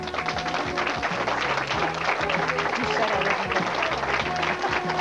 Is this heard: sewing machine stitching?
no